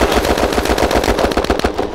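Rapid bursts of automatic gunfire rattle continuously and loudly in the video game Red Crucible Firestorm, a fast even rhythm of shots with no talking.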